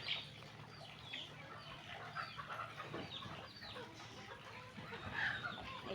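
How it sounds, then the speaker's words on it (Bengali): Chickens in a small backyard flock cluck and murmur softly at close range, with scattered brief calls over a faint, steady background. "এই যে আমার ঢেকি মুরগি"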